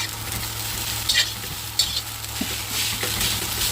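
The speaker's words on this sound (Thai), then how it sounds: "เดี๋ยวเราจะผัดข้าวด้วยนะ จะเอาข้าวผัด อันนี้นะผัดข้าวนะ ผัดข้าวนิดหน่อย" Rice is stir-fried in a hot pan, a close, steady sizzle broken by a few scraping strokes of a spatula, with no voices.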